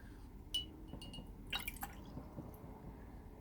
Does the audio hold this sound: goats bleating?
no